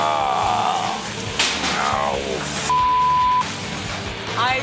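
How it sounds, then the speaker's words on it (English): A single loud steady censor bleep sounds for about a second, cutting over swearing in a busy kitchen from a cooking competition, with voices and background clatter before and after it. "I loved all that beeping."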